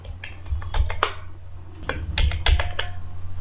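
Keys on a computer keyboard are pressed to enter an Alt code shortcut in Microsoft software, a series of distinct clicks in small irregular clusters, close and fairly loud with no talking.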